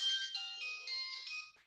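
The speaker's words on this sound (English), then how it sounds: "And that was my phone." A mobile phone rings with a bright electronic melody of steady tonal notes, fairly close and alone with no talking, stopping abruptly near the end.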